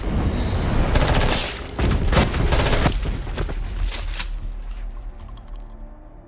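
A film shootout produces rapid bursts of gunfire and sharp impacts that are loud and dense at first, then thin out and fade to scattered clinks.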